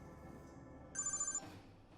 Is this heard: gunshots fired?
no